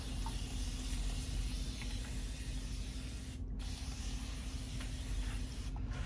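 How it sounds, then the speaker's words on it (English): A continuous spray bottle hisses water onto hair in a steady continuous mist for several seconds, with two very brief pauses. "Use our continuous spray bottle."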